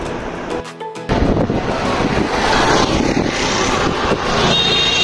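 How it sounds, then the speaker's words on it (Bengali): Strong wind blows continuously during a rickshaw ride, buffeting and roaring across the microphone with a brief lull near the start. "এত বাতাস"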